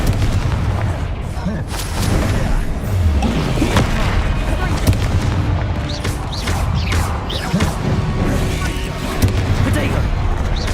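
Fire-blast spell explosions in Hogwarts Legacy, with repeated booming blasts and crashes over a dense, steady wash of battle noise and spell effects.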